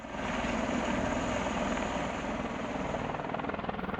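A V-22 Osprey tiltrotor aircraft gives a steady, loud, broadband rotor and engine roar that holds level for about four seconds, with a faint rhythmic beat near the end.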